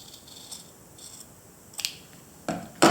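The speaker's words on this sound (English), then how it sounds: "You can cut them with your scissors." Scissors snip through strips of quilting fabric while half-square triangles are trimmed from string blocks: a few faint, sparse clicks, then two sharper, louder cuts close by at the end, with no talking.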